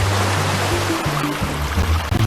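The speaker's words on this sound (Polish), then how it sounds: "Wylaliśmy całą wodę tutaj." Water pouring out in the video game Gold Digger, a loud, continuous rushing gush with low tonal game sounds running underneath.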